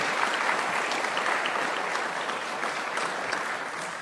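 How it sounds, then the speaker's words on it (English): An audience applauds at a community town hall about school funding, with a dense, steady clapping that holds throughout and tapers slightly at the end. "give Ebenezer another round of applause"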